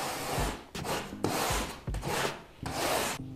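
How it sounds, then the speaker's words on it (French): A drywall rasp plane shaving the edge of a plasterboard sheet, making five or six close, rough scraping strokes in a steady back-and-forth rhythm. "je ne le fais pas à la lame, je vais le faire directement au rabot. Donc rabot plaque de plâtre."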